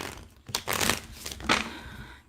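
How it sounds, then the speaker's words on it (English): Tarot cards being shuffled by hand, a few crisp riffling bursts and papery crinkles close up, separated by short pauses. "It's the same cards, even though I'm shuffling here."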